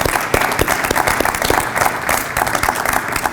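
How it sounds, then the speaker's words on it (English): Audience applause at an evening alumni and student mixer event: dense, steady clapping from a sizeable crowd, loud and continuous throughout with no talk over it. "Can we please give one more round of applause for our alumni panelists and our students?"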